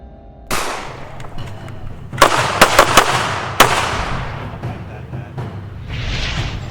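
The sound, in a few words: handgun shots fired in defensive training drill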